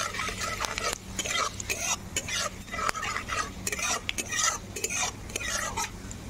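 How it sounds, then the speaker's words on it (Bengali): Panch phoron and a bay leaf sizzle in hot mustard oil in a karai, a bright steady crackle broken by repeated scraping and clinking of a spoon against the pan, with no talking. "গরম কড়াইয়ে দিলাম সর্ষের তেল আর একটা তেজপাতা, আর ফোড়নে দিয়েছিলাম সামান্য পরিমাণ একটু পাঁচ ফোড়ন"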